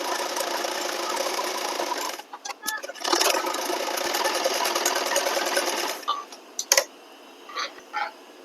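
An electric sewing machine stitches the lining of a blouse with long basting stitches, running in a fast steady whir, pausing, then resuming in short bursts near the end while someone talks over it.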